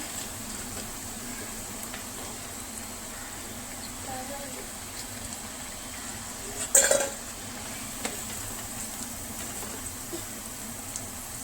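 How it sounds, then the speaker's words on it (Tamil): Cauliflower pakoda sits in frying oil with a low, steady sizzle, broken by one sharp metallic clink of a utensil against the pan. No one speaks. "எண்ணெயில் போட்டோடனே நல்லா வேகட்டும்"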